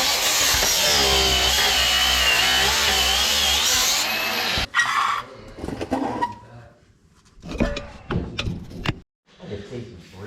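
A power grinder works on a BMW E36 car subframe during a bushing job, a loud continuous high-pitched whine for about four seconds that then stops, followed by scattered clanks, tool knocks and brief talk in a garage.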